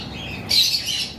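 One harsh, shrill squawk from a yellow-sided parrot among birds for sale bursts out midway over a quiet background, lasting about half a second.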